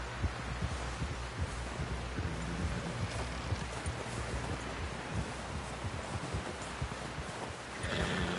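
Horse hooves in the video game Red Dead Redemption 2 thud in a steady rhythmic clip-clop under a dense, noisy background, continuous throughout with no speech.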